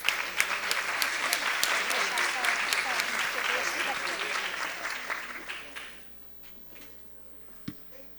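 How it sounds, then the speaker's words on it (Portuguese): Audience applause at an ocean-literacy conference session, dense steady clapping across a room for about six seconds before fading to scattered claps and quiet room noise. "Uma salva de palmas."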